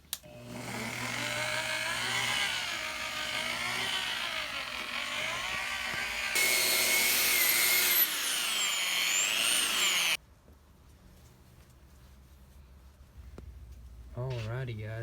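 A power buffer polishing the wet-sanded hardtop of a wrecked Jeep Rubicon under rebuild: a steady, loud motor whine that holds, jumps to a harsher pitch partway through, then cuts out abruptly.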